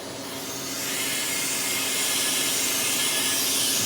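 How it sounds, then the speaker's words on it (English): A Harvest Right freeze dryer releases its vacuum with a loud, steady rush of air into the chamber, a broad hiss that swells over the first second and then holds evenly. "That puts the air back in the chamber so you can open the door."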